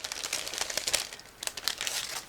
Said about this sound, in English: I need to open it. It's a resealable plastic bag